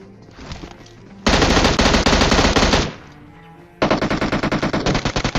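Automatic gunfire from a battle royale video game, close and loud, with a long sustained burst followed by a second rapid rattling burst after a short pause.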